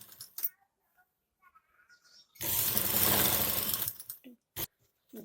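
Sewing machine stitching a long frock, one continuous loud run of about a second and a half with quieter handling noises and short bursts around it.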